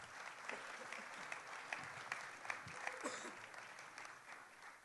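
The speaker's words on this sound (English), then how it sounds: "So how about a nice round of applause, ladies and gentlemen, for all the folks who put this great evening together." Audience at an awards dinner for a Jewish sports hall of fame claps steadily in a sustained round of applause, a dense wash of many hands in a large room with no one speaking over it.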